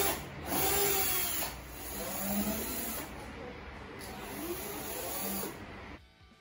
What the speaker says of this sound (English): followed by drilling a 2mm guide hole that we can use to fasten the table to the bracket